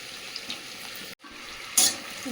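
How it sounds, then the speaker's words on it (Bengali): Cumin seeds and chopped onion fry in oil, a steady soft sizzle that cuts out for a split second, then resumes with a brief bright hiss as more goes into the pan. "এই তেলের মধ্যে একটু গোটা জিরে দিয়ে দেবো, দিয়ে দেবো পেঁয়াজ কুচি"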